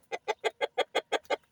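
Hens molting alongside a rooster in a backyard flock cluck in a steady run of eight evenly spaced, close, clear calls with no talking.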